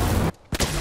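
Loud burst of Fortnite gunfire lasting about a third of a second, then a short gap and a second sharp shot, with dense blasts filling the frame and no talk over them.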